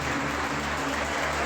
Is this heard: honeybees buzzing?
no